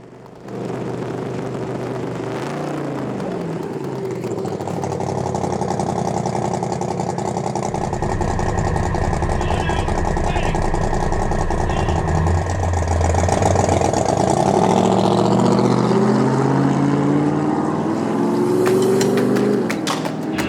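Motorcycle-type pace vehicle engine roaring loudly as it accelerates away from the start line with a bicycle pedaling in its draft, a steady, sustained rising drone close by throughout.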